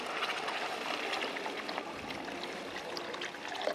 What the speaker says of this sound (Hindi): अब इसमें हम ग्रेवी के अकॉर्डिंग हल्का गुनगुन पानी ऐड करेंगे।